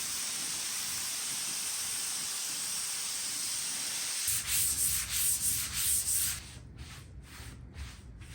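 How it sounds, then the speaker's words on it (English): Steady dry hiss of a sanding pad with 400-grit paper rubbed by hand over a wood coffee table's finish, continuous at first, then breaking into rhythmic back-and-forth strokes, close and alone. "I'll just sand it back with about 400, a nice little sanding pad, dust it off"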